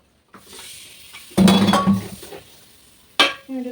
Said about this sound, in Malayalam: ഇതിൻ്റെ കൂടെ തന്നെ ഞാൻ തക്കാളിയും കൂടെ അരിഞ്ഞ് വെച്ചതൊന്ന് ചേർത്ത് കൊടുക്കുക